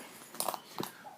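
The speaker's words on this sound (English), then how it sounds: "You hear those dogs barking? My neighbor's dogs." Neighbor's dogs outdoors during an ice storm, giving two brief, faint yips or barks at a distance over quiet outdoor air.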